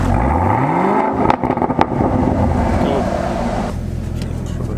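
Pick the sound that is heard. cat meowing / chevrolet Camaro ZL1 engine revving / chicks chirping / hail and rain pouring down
chevrolet Camaro ZL1 engine revving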